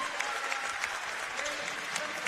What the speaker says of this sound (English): And a great ovation from the crowd.